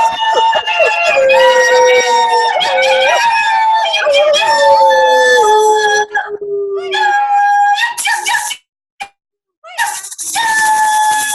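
Several people imitate wolf howls together: loud, close, overlapping sustained voices that rise and slide in pitch, briefly breaking off before a final howl.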